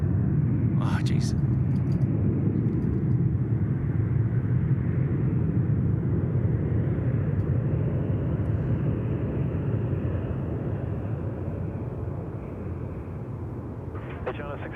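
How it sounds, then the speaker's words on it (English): An Asiana Airlines Airbus A350 lands at Sydney Airport on runway 34 left, a continuous loud jet roar and rumble that slowly fades over the span, with voices talking faintly over it. "Asiana Airlines, the A350, drop it in there at 3-4 left."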